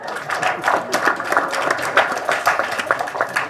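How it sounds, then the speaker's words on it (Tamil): An audience at the audio launch of the Tamil film Kaanatha Sudar claps continuously with sharp, uneven hand strikes, a lively, fairly close round of applause with no talking over it. "அதனால் தயவு செஞ்சு நீங்களே ஒரு தடவை கை தட்டிடுங்க"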